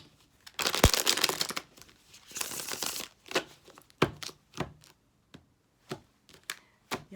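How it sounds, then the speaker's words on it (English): A deck of tarot cards is shuffled by hand nearby, with two longer riffling bursts followed by a series of sharp single taps and snaps, quiet and without talk. "something is guiding me to shuffle again for y'all"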